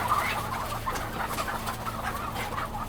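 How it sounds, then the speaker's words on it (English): Thousands of hens crammed into tiny battery cages at a commercial egg farm: a dense, constant din of overlapping clucks and squawks under a steady mechanical hum, loud and close. "There are thousands and thousands of birds crammed into these tiny cages."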